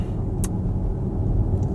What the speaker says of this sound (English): There's a little bit too much road noise coming through though.